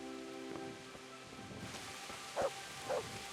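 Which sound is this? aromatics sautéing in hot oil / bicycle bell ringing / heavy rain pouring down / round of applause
heavy rain pouring down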